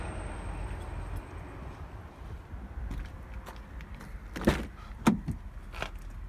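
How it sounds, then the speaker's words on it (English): Passing cars make a continuous low roar of road traffic outdoors, with a couple of sharper thumps and whooshes toward the end and no talking. "Sorry about the traffic noise, guys."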